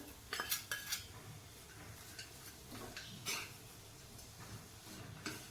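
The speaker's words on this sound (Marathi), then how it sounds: "आणि हे सर्व छान मिक्स करून घेऊया" Jaggery being stirred into a dry coconut modak filling in a pan, with a few clinking scrapes of a spoon against metal followed by softer intermittent stirring, faint and close with no talk.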